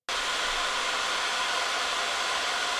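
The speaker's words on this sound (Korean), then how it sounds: "이렇게 노이즈 제거를 끄면은 이 드라이어 소리가 계속 윙 하는 소리가 계속 녹음이 되고 있을 거예요" A hair dryer switches on abruptly and runs with a steady, loud, continuous whirring hiss, recorded with noise removal turned off, with no talk over it.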